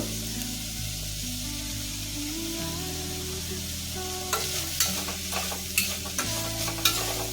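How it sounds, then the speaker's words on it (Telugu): Ingredients seasoned with salt fry in a pan for a sweet corn and coconut milk biryani, a steady close sizzle with low hum, joined later by several sharp stirring scrapes and clinks. "ఒక ఐదు నిమిషాలు మక్కనిస్తాను ఇవన్నీ బాగా ఫ్రై అయ్యండి"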